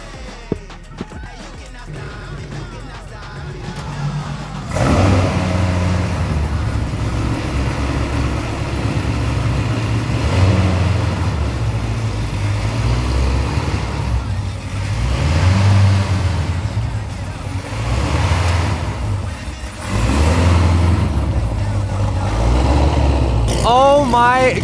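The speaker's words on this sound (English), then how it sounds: "This car sounds so mean." Loud, mean-sounding car engine on a cold day, about 34 degrees, firing up and then idling roughly with repeated revving surges and burbles close by, people talking over it.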